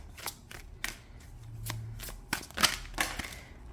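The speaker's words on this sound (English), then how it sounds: "going to keep shuffling because that was 2 cards." Tarot cards being shuffled by hand during a reading, with a run of soft, papery riffles and slaps repeating every half second or so, close up and fairly quiet, with no talking.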